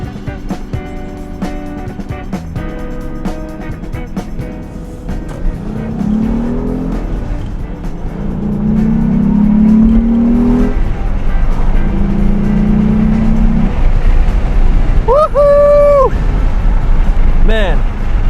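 A Mitsubishi 3000GT heard from inside as it drives, its engine note climbing and falling in loud, sustained surges through the gears, with a brief high chirp near the end.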